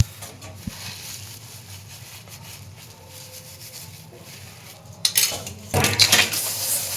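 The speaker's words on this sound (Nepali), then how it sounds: "भाँडा माझेको लाई भाँडा माझेको भाँडा माझ्नै पर्यो" Dishes, pots and pans clatter and scrape during hand washing, with soft rubbing at first and then sharper metallic knocks and clinks close by near the end, no voices.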